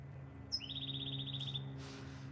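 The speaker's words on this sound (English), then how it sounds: "Birds are all over the place." A single bird chirps outdoors in a quick, faint trilling series over a low steady hum, with no talking.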